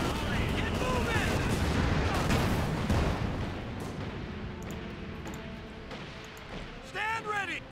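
Mortar and artillery fire in the WWII strategy game Company of Heroes 2, a dense rumbling barrage of distant booms and blasts that fades to a lower roar, with shouted voices underneath.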